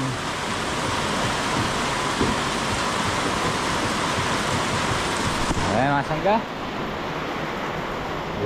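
Heavy rain pours during Typhoon Carina, a steady dense hiss that fills the whole clip, with someone speaking briefly near the end.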